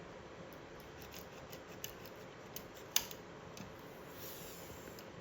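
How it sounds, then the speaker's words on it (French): Wire contacts in a BMW E30 dashboard are snipped, with a few faint, sharp clicks, the loudest near the middle, over a quiet background hiss. "là, tu as 4 contacts. On va les couper."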